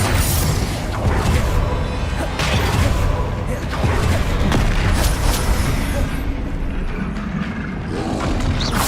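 A dense, booming Confringo spell blast from Hogwarts Legacy on PC, loud and continuous with explosive rumbles and whooshes layered through the whole stretch, and a voice calling out over it.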